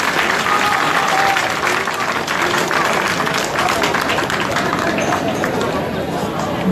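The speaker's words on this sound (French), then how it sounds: "je vous demande d'applaudir très très très très fort" A crowd at a school competition closing ceremony applauds children loudly and continuously, a thick roar of clapping that holds steady for several seconds.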